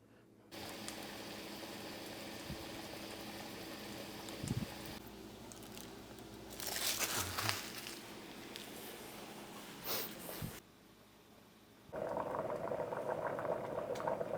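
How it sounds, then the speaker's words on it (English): Zatarain's rice boiling in a pot makes a steady bubbling roil with gaps, a few knocks and bursts of louder splashing and hiss, recorded up close with no speech. "When the rice starts to boil,"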